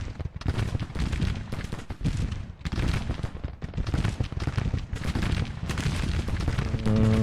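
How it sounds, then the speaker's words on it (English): Dense volleys of musket and rifle fire crackle continuously in a Grand Tactician: The Civil War battle at Antietam as troops shoot into cavalry, loud and sustained with rolling bursts and no pauses. "Oh, they are shooting into our cavalry now."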